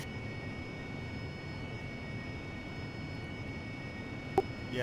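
A jet aircraft engine in a flight simulator game hums as a steady, faint whine and low roar, unbroken throughout, with one brief click near the end.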